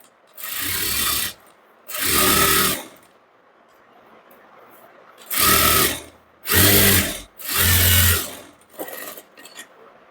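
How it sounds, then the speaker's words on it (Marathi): Sewing machine double-stitching the seams of a three-piece princess-cut blouse, running in five separate bursts of about a second each with short quiet pauses between them, close and fairly loud with no talk. "पुन्हा आता डबल शिलाई देऊन घ्यायची आपल्याला"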